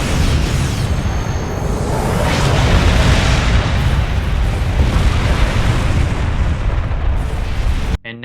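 Torpedo explosions in the Star Trek Online space combat game roar as a continuous, loud rumbling barrage of blasts that lasts several seconds, then cuts off abruptly at the end.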